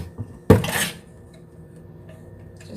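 A pan holding a little grapeseed oil is set down on a stove for frying spring rolls, making one sharp metallic clank followed by a brief rattle, then quiet background hum.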